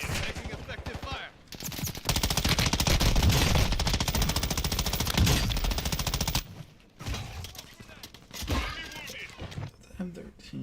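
Video game gunfire tears through a long, dense burst of rapid automatic shots lasting several seconds, loud and close, followed by quieter scattered sounds, with voices talking over parts of it.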